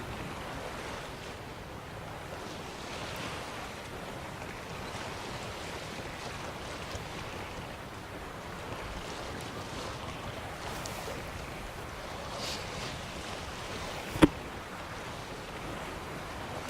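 A boat sailing over rolling sea waves in The Witcher 3 around the Skellige Isles, with a soft, continuous wash of surf and wind at low level, broken by a single faint knock near the end.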